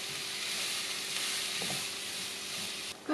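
Salted zucchini cooks in a pan with a soft, even sizzle, and a spoon stirs through it once or twice near the middle.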